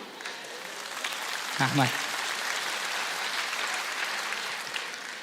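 Scattered applause from a concert audience at a 2024 Uzbek comedy show, steady and moderately distant clapping with someone briefly speaking over it near the middle.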